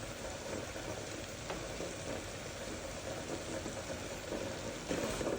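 Rice stirred and fried together in a pan, a steady close sizzle with faint scraping of the utensil, continuous throughout and without speech.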